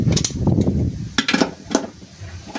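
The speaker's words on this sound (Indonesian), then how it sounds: "baru kita nanti finishing pakai bantuan alat kunci soketnya" A socket wrench ratchet tightens a transmission mount bolt on a Toyota Avanza, giving close metallic clicks and clunks in short uneven bursts.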